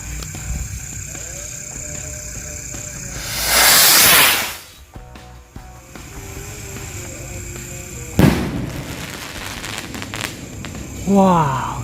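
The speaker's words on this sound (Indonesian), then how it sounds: "Ini dia merconnya, siap untuk kita nyalakan." A jumbo firecracker's lit fuse fizzes with a loud burst of hiss, then a sharp explosion cracks out a few seconds later, with voices talking around it.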